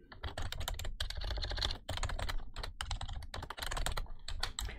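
A computer keyboard being typed on to enter a password, rapid close-up keystrokes in irregular bursts with short pauses between them, clear and alone without speech.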